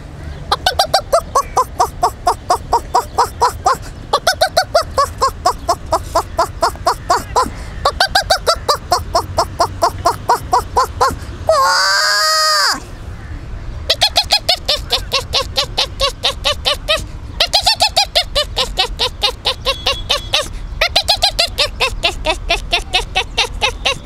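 A person imitates a hen's sharp clucking call made when it tries to peck, a loud, rapid, rhythmic burst of vocal clucks in long runs with a brief higher squeal in the middle.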